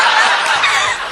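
A talking parrot mimics a chimpanzee with a brief, harsh, screechy chatter that sounds close and loud and runs steadily for about a second without pausing.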